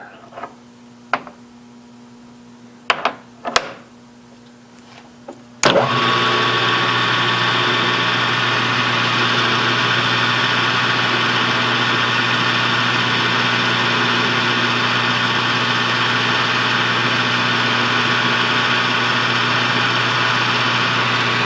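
A lathe faces off the small stub on the end of a valve stem for a five-cylinder radial engine. A few light clicks and knocks come first, then the machine starts and runs with a loud, steady hum to the end.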